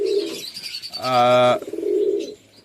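Madras Ziria Chatiyal pigeons in a village loft give close cooing calls, with one sustained tonal coo in the middle and softer murmurs before and after.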